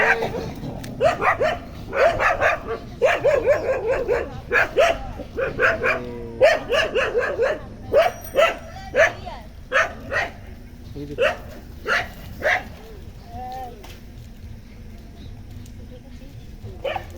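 A dog barks repeatedly in bursts of short woofs and yips, close and loud, with a few whimpering sounds and people talking between and over the barks.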